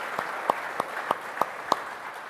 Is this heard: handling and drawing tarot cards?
no